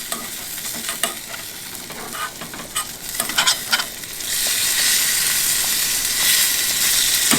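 Bacon frying in a pan on a stove for a tailgate shrimp-and-grits breakfast, crackling with scattered pops at first, then swelling into a steady, loud close sizzle that holds to the end.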